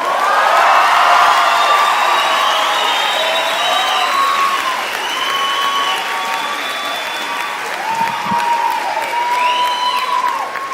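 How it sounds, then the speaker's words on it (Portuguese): A Brazilian stand-up comedy audience bursts into loud, sustained applause mixed with cheers and whistles as comedian Fábio Rabin is welcomed to the stage. The ovation stays full for the whole stretch. "Recebam com uma salva de palmas"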